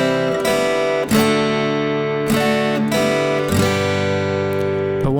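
An acoustic guitar strums chords slowly, with open strings ringing in the gaps between chord changes, about five broad strokes spread over several seconds, close and steady with no talking.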